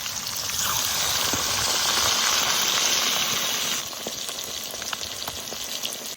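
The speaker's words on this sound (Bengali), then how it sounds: "দেখুন ভাজছিতে একদম ফুলে উঠেছে মাছটা" Large pieces of silver carp, cut from a 7 kg fish, fry in oil in a crowded wok, a loud, close, hissing sizzle that drops to a softer crackle partway through.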